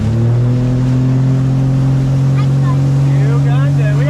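Motorboat on Lake Powell heavily loaded with people, its engine droning loud and close with a steady tone that rises slightly in pitch as it speeds up, with voices talking over it.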